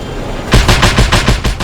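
A black cannon fires in the Just Cause 2 video game: a rapid string of about six loud, punchy blasts in close, steady succession after a short quiet lead-in.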